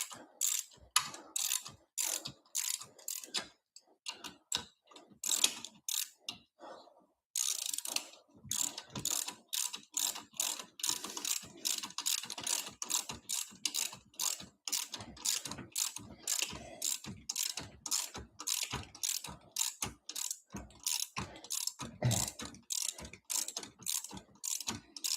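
A hand ratchet tightens bolts on a Nissan Altima, giving steady, rapid, close clicking strokes that run almost continuously, with one brief pause near the start.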